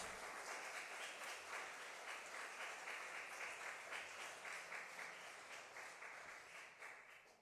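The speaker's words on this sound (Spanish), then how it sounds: "¿Por qué no damos un aplauso?" A church congregation applauds steadily for about seven seconds, a dense, even wash of many hands clapping that fades slightly toward the end, with no talk over it.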